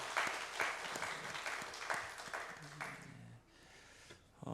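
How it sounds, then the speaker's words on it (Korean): A congregation at a Korean church's Friday prayer meeting claps in encouragement, the claps falling in a steady rhythmic beat, fairly quiet and distant, then dropping away near the end before a brief sound returns. "박수로 격려하겠습니다"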